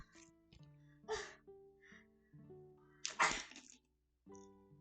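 Two sharp, loud sneezes about two seconds apart burst out over steady sustained tones in the background.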